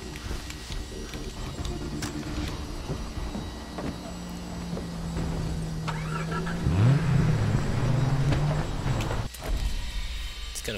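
Car driving through the Far Cry 3 game world, engine droning and revving with rising tonal sweeps, plus bumps and clatter along the way, ending in a brief dip.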